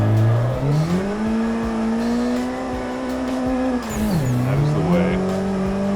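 In the Assetto Corsa racing game, a drift car runs up through the gears at the Ebisu Minami jump. A loud, close engine holds high revs, dips briefly around the crest, then climbs again with faint tyre noise.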